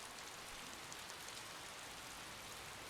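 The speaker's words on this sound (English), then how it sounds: "The rain's not stopping." Steady rain in the Collar X Malice visual novel, a soft, even hiss of falling drops that runs evenly throughout, with a brief louder sound cutting in at the very end.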